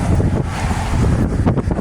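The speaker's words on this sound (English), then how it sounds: "it's windy" Strong wind buffets the microphone in a constant, heavy roar with deep rumbling gusts.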